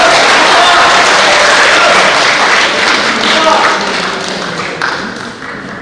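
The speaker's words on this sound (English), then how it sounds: "Ladies and gentlemen, please welcome him with our claps." An audience at a youth public speaking competition applauds to welcome a speaker forward, a loud, dense wash of clapping that holds steady and then fades gradually.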